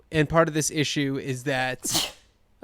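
A single sharp sneeze bursts out near the end of a stretch of conversational talk, loud and close.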